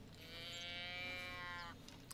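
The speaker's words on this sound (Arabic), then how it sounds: "هذا غزال، انا اتوقع غزال صراحه" A deer call in the hunting game Call of the Wild, a single drawn-out bellowing moan lasting under two seconds, distant-sounding and fairly faint, heard alone with no talking.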